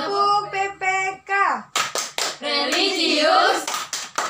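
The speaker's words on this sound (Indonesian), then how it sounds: "kita melakukan tepuk PPK" Children in an Indonesian classroom perform the rhythmic tepuk PPK chant, with sung voices and short bursts of sharp hand claps. Clapping becomes denser and louder toward the end.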